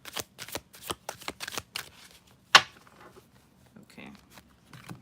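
Tarot cards being shuffled, with a quick run of close riffling bursts, then one sharp snap and a few softer shuffling sounds toward the end.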